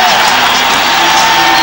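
A loud basketball arena crowd roars and applauds in a continuous wash of noise, urging on the home team, with a broadcast voice faintly under the noise.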